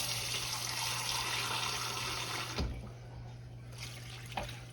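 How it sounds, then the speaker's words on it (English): Water pours into a turkey roasting pan as a steady rushing splash for a couple of seconds, then stops abruptly, leaving quieter room sound and a faint clink. "I need a little water in the pan to kind of get it going."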